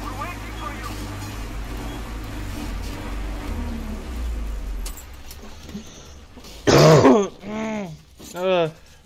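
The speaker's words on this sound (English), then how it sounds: "Wish I could stop fucking coughing." In Metro Exodus, a character lets out a few harsh, throaty coughs in quick succession after a low rumbling ambience, loud and close.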